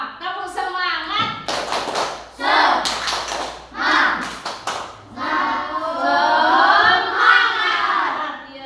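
Schoolchildren in a classroom do a rhythmic clapping chant, sharp claps landing in quick patterned groups among chanting and shouted children's voices, with an adult voice leading.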